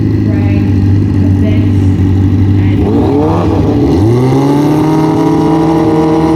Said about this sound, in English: These are both very loud bikes.